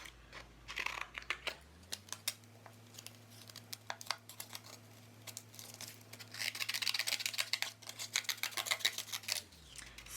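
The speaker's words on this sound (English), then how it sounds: "I will cut out just this little triangle between the tail and the back." Paper is cut into a small triangle shape with scissors, producing close, repeated snips and crinkles in quick irregular bursts over a low steady hum.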